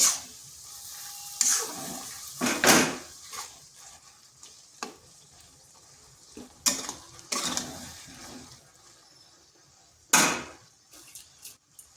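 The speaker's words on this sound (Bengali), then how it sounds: "এবার তিন থেকে চার মিনিট এইভাবে কিন্তু মিশিয়ে নিতে হবে নেড়ে নেড়ে" A spoon stirs an egg and eggplant mixture with a little water in a pan, making scattered scraping and sloshing strokes at irregular intervals, close up with no talking.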